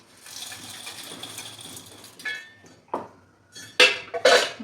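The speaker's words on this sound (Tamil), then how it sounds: "ஒரு மிக்ஸி ஜாரில் நம்ம வறுத்து வச்சுருந்த எல்லா பருப்பையுமே சேர்த்துக்கலாம்." Roasted lentils poured into a mixer grinder jar, with a soft rustle early on and then a few sharp clattering bursts as they drop in, close and alone.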